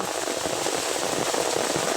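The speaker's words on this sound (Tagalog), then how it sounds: "inabutan na po kami ng ulan" Steady rain pours down on a beach during a crabbing outing, an even hiss of drops spread across the whole moment with faint crackling patter and no voices.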